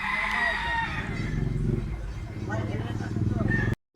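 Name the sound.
Gilmore Hatch stag rooster crowing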